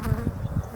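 A steady, low buzzing of honey bees left behind after a hive move fills the short clip, swelling in soft pulses as insects hover close by.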